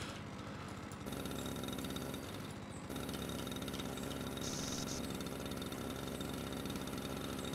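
A string trimmer in a landscaping simulator video game runs steadily at a high buzzing whine throughout, with a brief dip in pitch near the start before resuming at full speed.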